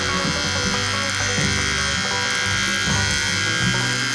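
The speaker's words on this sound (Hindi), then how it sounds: "आप ट्रिमर ऑन कीजिए अपना।" A Mi electric hair trimmer with a comb attachment fitted runs steadily after being switched on, giving a loud, continuous close-up buzzing hum with slight wavers in tone.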